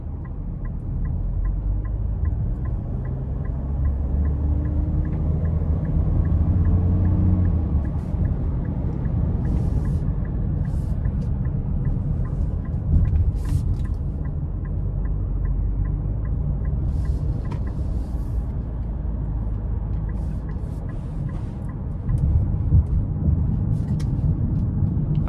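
A 2026 Nissan Rogue Dark Armor AWD with a 1.5-litre turbo three-cylinder cruising, a steady low engine and road rumble filling the cabin with faint ticking over it, no talk.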